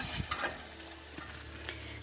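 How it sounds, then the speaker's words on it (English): A tapioca sago pearl dish cooks in a pan and is stirred, giving a soft, steady sizzle with a few faint scraping taps from the spoon. "I'm going to give it a nice stir here"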